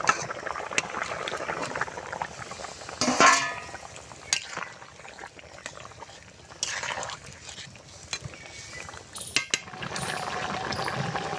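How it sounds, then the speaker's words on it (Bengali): Fish and vegetable curry broth bubbling at a steady boil in a pan, with fried pointed gourd and eggplant waiting to go in; a continuous soft bubbling wash, close and moderately loud, with a few clinks and no talking. "ঝোলটা ফুটে গেছে"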